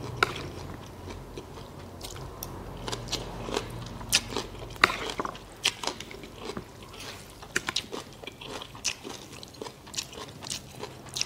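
Someone eats Lao rice noodle salad with fermented sauce, khao poon, close to the microphone, with steady wet chewing and frequent crunchy bites over a low background rumble of passing traffic.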